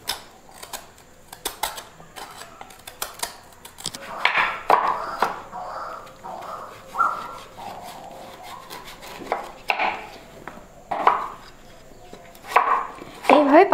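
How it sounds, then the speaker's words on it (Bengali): Spinach and pumpkin being cut with a knife, with irregular chopping and slicing taps on a board, sometimes in quick runs, and a voice talking between the cuts. "এইভাবে সমস্ত শাকগুলো আমি কেটে নেব।"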